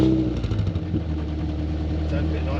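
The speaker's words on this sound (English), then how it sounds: "First start up with the Sportex exhaust system." Ford Fiesta ST150 idling on its first start-up with a new Sportex exhaust system, a low, steady burbling drone close by with a slight pulsing rhythm.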